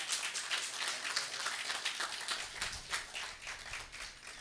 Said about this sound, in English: Honorable Ronnie Skelton deserves a clap for that